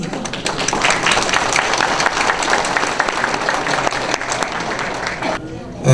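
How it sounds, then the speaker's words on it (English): Audience at an army anniversary celebration giving a big round of applause, dense sustained clapping filling the room for several seconds before cutting off abruptly. "If everybody can give them a big round of applause again, please."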